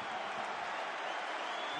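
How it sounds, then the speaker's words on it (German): Hallescher FC supporters cheering at the far end of a football stadium during a match against Hansa Rostock, a steady, dense roar of crowd noise heard from a distance. "Hinten jubeln sie, die Fans des HFC."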